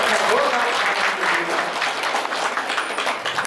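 An audience at a Brahma Kumaris gathering applauds steadily and loudly, with a continuous wash of clapping throughout.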